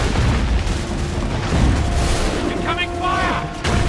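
Incoming cannon fire in Assassin's Creed 3 rumbles in a dense barrage of booms and cracks, with soldiers' voices shouting over it near the end.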